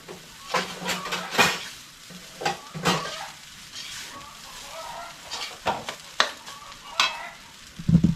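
Food stirred in a frying pan over a sizzling background, with repeated scraping and clanking of a utensil against the pan in an uneven rhythm, close and fairly loud, with no talking.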